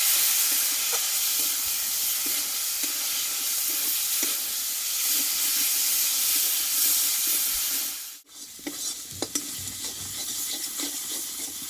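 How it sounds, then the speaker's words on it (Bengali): A ground paste of nuts, cashew, ginger and green chilli sizzles loudly in hot oil, a dense steady fry with soft stirring scrapes, then a sudden brief dip before the sizzle and stirring resume. "বাদাম কাজু আদা কাঁচা লঙ্কা যে বেটে নিয়েছিলাম এটা আমি দিয়ে দেবো দিয়ে একসঙ্গে মশলাটা ভালোভাবে কষিয়ে নেবো"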